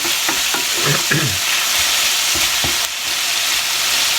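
Onions cooking with balsamic vinegar sizzle steadily in a pan as they caramelize, with a brief run of stirring scrapes near the start, and no talking.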